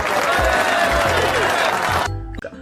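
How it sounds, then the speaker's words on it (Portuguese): A short burst of clapping from a small group, given for two students in a math class lesson, runs loud and close before cutting off abruptly. "Palmas para a Beatriz e também para o Bruno"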